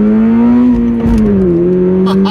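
A 2022 Toyota GR86 with a manual gearbox accelerates hard as its back end slides, the engine droning loud and close in a steady tone that dips and recovers, with a short thump midway.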